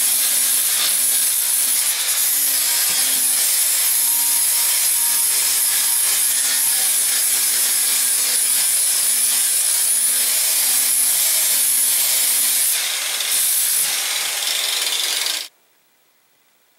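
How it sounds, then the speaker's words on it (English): A 40-grit sanding disc grinds against a wooden axe handle in a loud, continuous abrasive rasp, with a steady motor whine underneath, until it abruptly stops near the end. "I got my 40 grit sanding disc on there."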